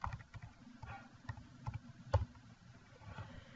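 Soft computer keyboard typing, a quiet irregular patter of keystrokes with one sharper click near the middle, heard alone at low level.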